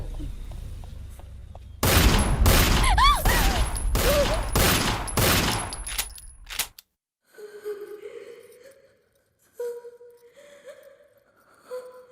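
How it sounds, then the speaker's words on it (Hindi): Rapid gunfire from an Indian film bursts out loud in a dense volley with ringing, whistling tones, then stops abruptly, leaving quieter scattered sounds afterward. "गोली से उड़ा दे साले को।"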